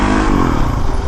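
Motorcycle ridden hard while popping a wheelie, a loud, close engine roar with a rising rev note and mechanical clatter over about a second, no voices.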